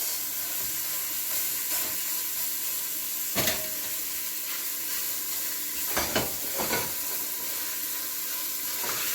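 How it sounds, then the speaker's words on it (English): Meat is added to a warm pot for Venos de Milo soup, giving a continuous hissing sizzle throughout with a few brief clanks and stirring knocks. "So this is already warm, so I'm going to add my meat."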